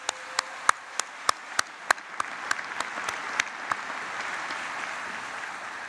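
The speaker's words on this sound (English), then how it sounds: "let's give the band and the chorus another round of applause" Applause for the band and chorus at a Memorial Day ceremony: a few loud, evenly spaced claps open, then spread into a softer, denser ripple of clapping from a large outdoor crowd.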